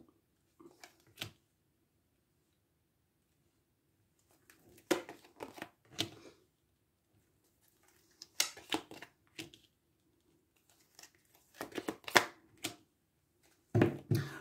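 Tarot cards drawn and handled one by one for a weekly reading, giving brief, close papery slaps and shuffles in short separate bursts between quiet pauses.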